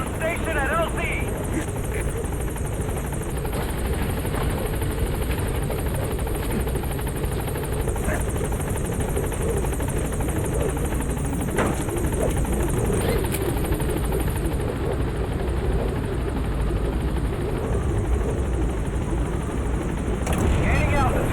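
A helicopter hovering to land in the video game Metal Gear Solid V, a loud, steady rotor thrum and engine whine held throughout, with radio voices speaking over it.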